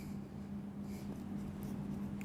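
A pen scratches across a board while trigonometric identities are worked out, a steady, close scribbling texture with a low hum beneath and no talk.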